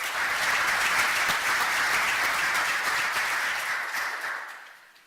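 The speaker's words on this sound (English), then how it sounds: "I think we all deserve a round of applause." A large audience applauds steadily for several seconds, a dense, even wash of clapping that thins and fades away at the end.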